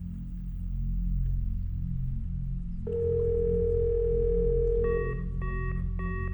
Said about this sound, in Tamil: ரிங் போகுது, ரிங் போகுது.